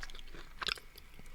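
A person imitates chewing a big mouthful of steak with the mouth full, giving soft, wet, crunchy smacking sounds and one brief louder burst. The sound is quiet and close, with no words spoken.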